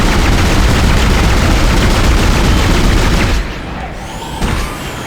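Weapon fire from the Dead Space video game, a dense, loud barrage of booming shots and blasts for over three seconds, then cutting to quieter game ambience with a faint later thud.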